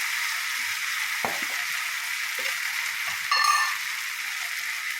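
Chicken curry with jackfruit seeds sizzles steadily in a pan, a constant hiss with a couple of soft stirring knocks and a brief louder scrape near the end, no talk.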